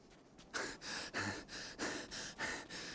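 Heavy, deliberate breathing from a character in a voice-acted Final Fantasy XIV Endwalker cinematic: about six slow, close, rhythmic breaths, each a loud airy rush followed by a short pause, heard without talk.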